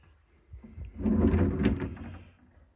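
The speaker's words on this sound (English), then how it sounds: "Good sized closet, sliding doors" A sliding closet door in a lake home bedroom rolls along its track, a soft rumbling slide that swells in the middle and fades, heard alone at close range.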